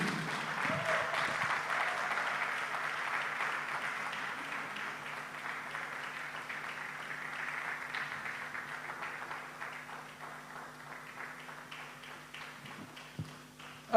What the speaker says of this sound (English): Please, with a standing ovation and your loudest applause